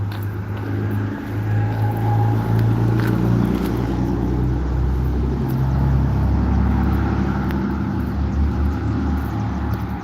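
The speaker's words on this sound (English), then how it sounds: "Car coming." Loud car rumbling on a residential street, a deep, steady engine drone that stays close and strong for several seconds with no voices over it.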